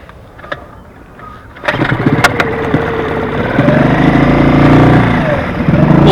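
A small engine cranks with a few sputters, then catches while in gear and settles into a loud, steady idle that rises slightly in pitch, close up with no talk.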